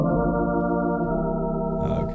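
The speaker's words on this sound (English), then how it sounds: "So that's the organ flutes, which sound like this." Organ flute voices at 16 and 8 foot pitch on a pre-owned Ringway Maestro tab-based organ, a steady sustained chord held loud and alone before a brief change near the end.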